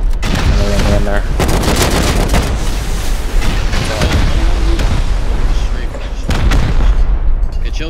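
Rockets and gunfire erupt in a Call of Duty video game, a loud, chaotic run of booming blasts and rapid shots with heavy low rumble, close and overlapping throughout.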